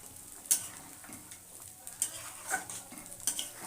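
Metal spoon stirring chicken kosha as it fries in a pan, a few sharp scraping clinks over a quiet sizzle, close and fairly faint, with no voices.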